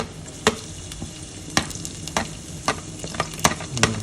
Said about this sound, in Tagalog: So, magisa na tayo ng bawang.